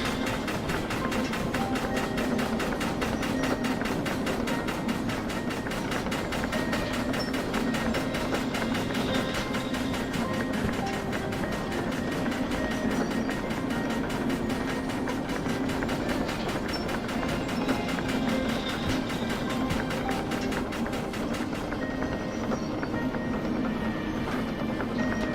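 A train in Derail Valley rolls steadily through a tunnel at night, a loud, continuous rumble with fast rhythmic clickety-clack from the wheels, heard alone without speech.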